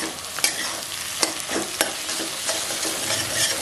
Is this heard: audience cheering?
no